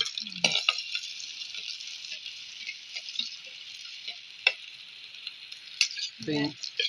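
Onion sizzles steadily in coconut oil in a pan, a constant bright frying hiss with a few stirring clinks and a brief utensil scrape near the end.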